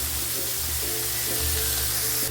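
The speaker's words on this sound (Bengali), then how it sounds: "মোরলা মাছ এটা এখন ভালো করে ফ্রাই করে নেবো এক সাইড ভালোভাবে হতে দেবো" Small mourola fish frying in hot oil in a pan, giving a constant, even sizzle and crackle throughout, close by, with no talking.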